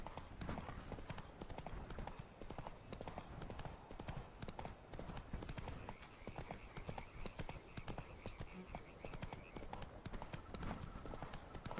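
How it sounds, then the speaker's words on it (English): Horse hooves clip-clopping while riding in the video game The Witcher 3, a quick continuous rhythmic patter of hoofbeats, fairly close and steady, with no talk. "riding horses is not as easy as it looks."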